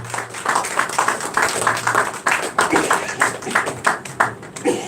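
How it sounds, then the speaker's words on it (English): An audience at a chieftaincy development seminar claps, a sustained round of close, dense applause with rhythmic individual claps throughout. "Can we give Ambassador Chiambori another round of applause?"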